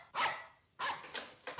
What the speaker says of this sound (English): I'd know that unfriendly bark anywhere.